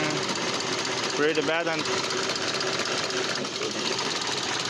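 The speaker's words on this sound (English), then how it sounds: "Maybe just misfiring. The engine's shaking" A misfiring car engine shakes and stumbles close by, its rough, uneven drone sounding as though it is starting to die. Someone speaks briefly over the steady engine noise.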